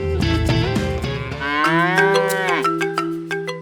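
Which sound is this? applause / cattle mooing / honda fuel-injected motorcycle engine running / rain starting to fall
cattle mooing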